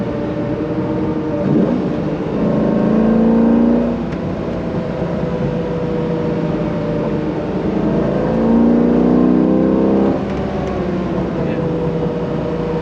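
A C5 Z06 sports car engine revs up and falls back twice, rising pitch with each throttle push over a steady interior drone, no speech.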